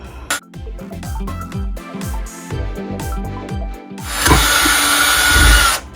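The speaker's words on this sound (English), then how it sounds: "And I'm just going ahead and take the drill" A power drill whirs in short repeated bursts, then grinds steadily and louder through melamine near the end, close and prominent.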